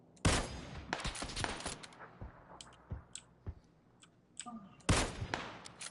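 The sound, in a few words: gunfire in PUBG video game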